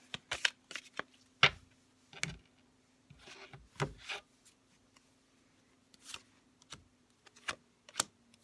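Tarot cards shuffled and drawn during a reading: soft papery riffles and sharp flicks land in irregular bursts, close and fairly quiet, with near-silent gaps between them.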